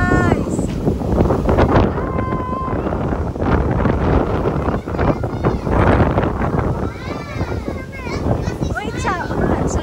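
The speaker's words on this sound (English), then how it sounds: "It's very windy, guys." Strong wind at a beach buffets the microphone in loud, continuous gusts, heard under excited family talk and children's voices throughout.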